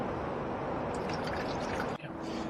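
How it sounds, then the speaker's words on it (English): Water pours steadily into the chemical toilet tank of a 2024 Rimor Horus 95 motorhome, a continuous close, dense rushing splash that briefly falters near the end before continuing. "and then you pour in 3 bottles of water."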